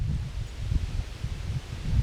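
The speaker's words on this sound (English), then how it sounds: "I mean, you couldn't want for more breeze coming through here right now." Breeze blowing through an open sawmill building, a steady low rustling wind noise with gentle gusts throughout, fairly close to the microphone and with no voices.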